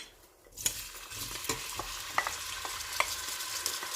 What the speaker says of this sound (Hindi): उसके अंदर हम 2 अदद प्याज छोटे साइज़ के स्लाइस किए हुए ऐड करेंगे